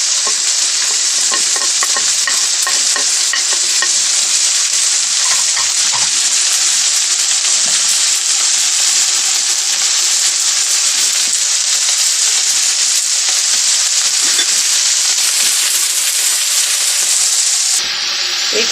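Ground turmeric, ginger, salt and crushed red chilli sizzle steadily in hot oil in a pan, a loud, continuous crackling hiss with faint scraping from stirring, unbroken for most of the stretch before cutting off near the end.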